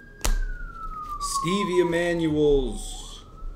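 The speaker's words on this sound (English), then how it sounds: "As sirens go off in the distance" A police-type siren wails in the distance with a long falling tone, while someone speaks over it in the foreground.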